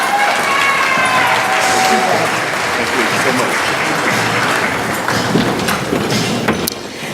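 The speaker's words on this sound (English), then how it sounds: "Let's give another round of applause for Richard Crockett." Applause from the audience at an industry awards ceremony, a dense wash of clapping that holds steady and thins toward the end, with some crowd noise underneath.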